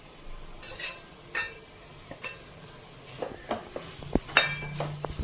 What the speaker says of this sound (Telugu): గోంగూర ఆనియన్ కలిసేటట్టు మిక్స్ చేసుకోవాలి.